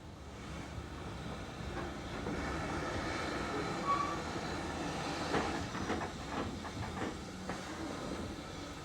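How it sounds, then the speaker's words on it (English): An M7 tank engine pulls a branch train out of its platform toward Seaton: a steady rumble of wheels and hiss, with rhythmic rail clicks building toward the end, moderately loud and unaccompanied by voices. "the branch train moves out of the branch platform to clear the road for the through train"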